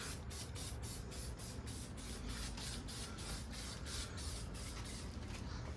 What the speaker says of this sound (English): throw some WD-40 all over